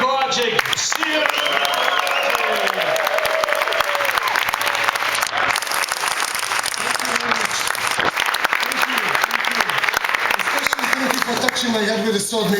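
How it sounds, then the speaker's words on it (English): Sustained applause from a crowd greeting a newly made knight, dense steady clapping close by with scattered cheers and voices mixed in. "Big applause for Gojko Hadžić."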